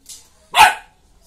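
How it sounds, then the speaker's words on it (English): A Labrador gives a single sharp bark on command during home obedience training, close and loud after a brief faint sound, then quiet. "Bark. Bark."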